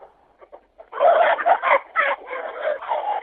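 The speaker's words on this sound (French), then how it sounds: "actuellement, je suis dans mon poulailler au milieu des poules" Hens clucking inside a henhouse: a few soft, scattered clucks at first, then a dense, steady run of overlapping clucking from birds close by.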